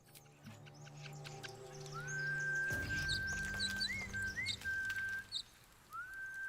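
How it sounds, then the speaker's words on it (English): A character in Baldur's Gate 3 whistles a short tune in clear, sliding notes with small upward flourishes, layered over soft game music and ambience. "We just whistle it. Well, that's kind of fun."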